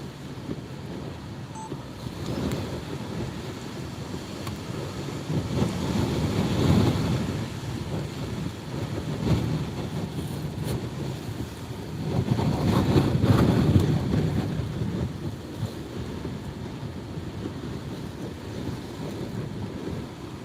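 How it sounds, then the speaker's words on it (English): Hurricane-force wind gusts from Category 4 Hurricane Ida in Louisiana roar through a cracked car window, a steady low rush that swells into two louder surges, with no talking. "Crack open the window so you guys can hear what's going on."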